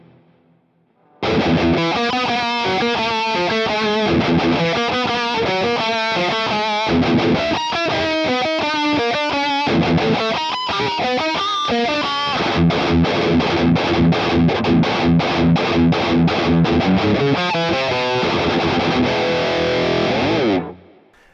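Heavily distorted electric guitar plays a riff through a Boss Katana-Go thrash preset with a touch of reverb, loud and continuous with fast palm-muted chugs and rhythmic bursts, no voices.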